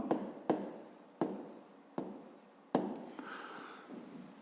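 A pen writes by hand on paper in a series of scratchy strokes, about five distinct bursts that each fade out, close and fairly quiet.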